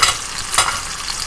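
Bacon frying in a pan, heard as a loud, close, continuous sizzle with a brief stirring or shifting sound partway through, and no one talking.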